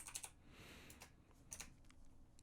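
Typing on a computer keyboard while entering text in Blender, with a few quick clustered keystrokes near the start and again around the middle, soft and close over a faint background hiss.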